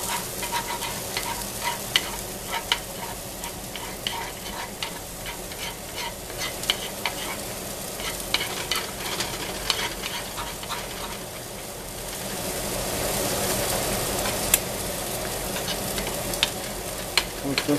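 Breakfast fries in a pan while being stirred, a dense continuous sizzle with scattered spatula scrapes and clicks that swells slightly louder toward the end.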